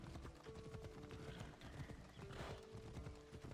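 Steady clip-clop of horse hooves at a slow walking pace, close by, with a faint whinny and some background noise.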